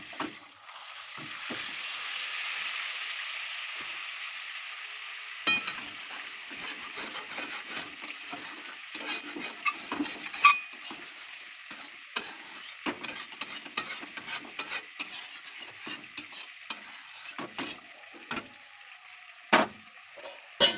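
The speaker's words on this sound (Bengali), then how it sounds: "এইবার আমি চিকেনটা ভাজবো" Chicken coated in salt and turmeric fries in a hot kadai (wok) with butter, ginger and green chilli paste, giving a steady close sizzle broken by scraping and stirring clatter throughout.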